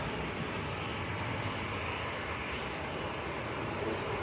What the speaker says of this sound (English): EasyJet next to go